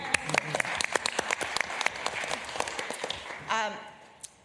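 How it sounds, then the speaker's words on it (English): Audience at a St. Paul city council meeting breaks into scattered, moderate clapping that builds briefly and then tapers off, with a voice speaking over the end. "We can give her a round of applause"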